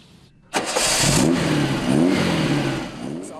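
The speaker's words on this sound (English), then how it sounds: "the power is revealed only when the car is started" A vintage Volkswagen Beetle with its rear-mounted engine cranks and fires up, then revs loudly in a few rising surges before settling toward idle, close and clear with no talk.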